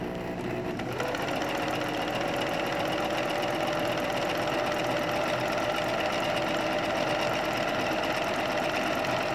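A sewing machine runs steadily through a seam, starting about a second in and holding an even, continuous mechanical whir with a rapid stitching rhythm at close range, with no talking.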